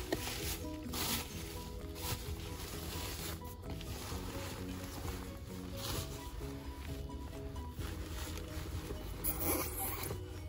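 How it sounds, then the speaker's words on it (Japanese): A newly delivered microphone's package is opened at close range, with continuous rustling, scraping and zip-like tearing of packaging. "開封します。"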